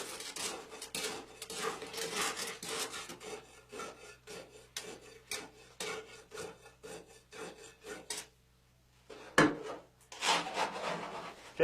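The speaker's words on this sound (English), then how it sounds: "Rod the layer 25 times, making sure to penetrate into the first layer approximately 1 inch." A tamping rod works fresh concrete inside a slump test cone, making a fast series of gritty rubbing strokes. After a short pause, a sharp knock follows and then a few more scraping strokes, all close and alone.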